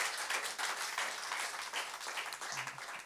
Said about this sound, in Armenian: Ես կուզենամ ծափարենք բոլոր աշխատողներին, դիզայներներին